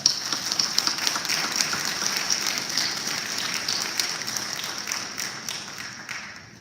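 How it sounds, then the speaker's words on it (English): An audience at an academic recognition and scholarship ceremony applauds the students' parents with steady, dense clapping that stays loud and even, then thins and fades toward the end. "let's give your parents a round of applause as well"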